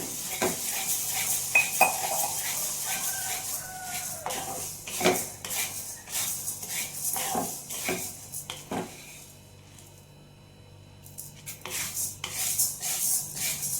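Urad dal and chana dal dry-roasting in a pan while a metal spoon stirs them, giving repeated clinks and scrapes against the pan over a faint sizzle. The stirring pauses briefly, then resumes close by.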